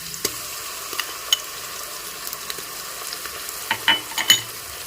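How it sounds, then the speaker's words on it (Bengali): Ginger garlic paste and softened onions fry in a pan for tomato rice, a soft steady sizzle under sharp spoon scrapes and clinks that cluster more busily toward the end, no voices. "আদা রসুনের পেস্টটাকে নেড়ে চেড়ে ভেজে নিচ্ছি"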